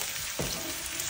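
Garlic hitting hot oil in a pan gives a steady, close frying hiss with a brief stirring scrape partway through, and nobody speaks.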